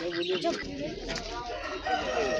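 A rooster crows nearby against a busy din at a poultry show in Liubar, Ukraine, with other birds clucking and calling underneath.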